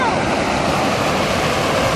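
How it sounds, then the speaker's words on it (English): Very clear meltwater flows out from beneath ice on a high mountain hike, a steady, loud, close rush of water with a broad, even hiss and no break throughout. "we found where the water was coming out underneath all the ice"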